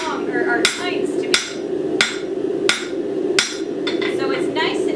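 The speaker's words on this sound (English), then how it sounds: "we're gonna start hammering out and flattening out this piece where we want our tongue or our tines to be" A hammer strikes hot metal on an anvil while a three-prong fork is forged, five sharp, ringing blows about two-thirds of a second apart over a steady roar of forge noise.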